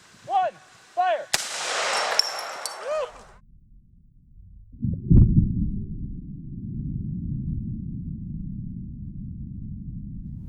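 A 5.56 AR15 rifle fires a single sharp, loud shot into a row of shot glasses, followed by a lingering rumbling tail; voices and exclamations are heard just before the shot.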